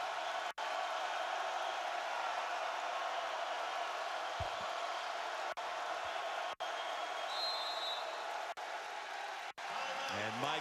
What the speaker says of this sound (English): Here comes the crowd at Little John.